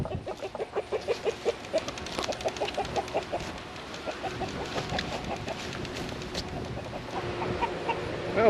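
Farm hen clucking rapidly and repeatedly while being caught for wing clipping, agitated rhythmic clucks close by, with other fowl and rustling in the background.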